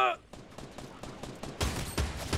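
Gunfire in Fortnite, a quick rattle of several shots that turns into a louder burst of rapid fire near the end, with a voice heard at the very start.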